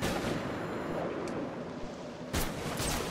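Sniper rifle shots in Batman: Arkham City ring out as sharp, loud cracks over a dense, noisy game soundscape, with one prominent burst near the end.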